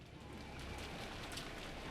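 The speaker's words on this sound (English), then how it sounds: "Suddenly the wind changed directions, and the rain started to hit me fiercely." Steady, dense rain from the visual novel game Umineko Chiru, a continuous even hiss of downpour with wind, holding constant throughout with no voices.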